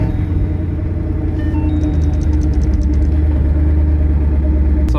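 A twin-turbo Ford Mustang Boss 302 running at a steady rumbling idle, close and loud throughout with a constant low drone, no speech.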